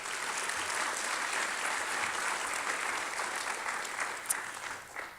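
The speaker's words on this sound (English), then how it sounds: "So let's give them a round of applause," Steady applause from a conference audience at an economic outlook event, dense even clapping held for about five seconds before tapering off at the end.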